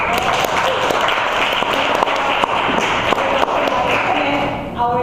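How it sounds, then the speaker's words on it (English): An evening speaking-club audience gives a round of applause for the speakers, brisk clapping from a modest crowd with a few sharp individual claps standing out, tapering slightly near the end. "I'd like to start my evaluation with a round of applause for the speakers"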